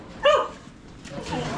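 A dog gives one short, sharp bark near the start, fairly close, with faint background noise and some low talk afterward.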